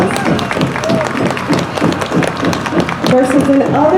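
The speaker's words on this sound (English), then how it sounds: "Give them a nice round of applause." Audience at an outdoor Ciclovia street event in Salinas, California, clapping in a dense crackle of applause for about four seconds, mixed with a speaking voice and crowd noise.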